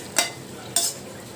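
Vegetables, red amaranth stalks, being turned and stirred in a pan, giving two short scraping bursts close up, with a quiet simmering hiss between them.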